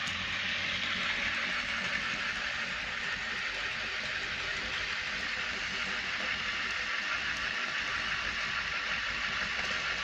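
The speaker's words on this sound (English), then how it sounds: "Only one motor is working, and it's spinning the other one." A small electric motor on a fresh 9-volt battery drives a set of magnetic gears, giving off a steady, close whirring hum that holds an even pitch throughout.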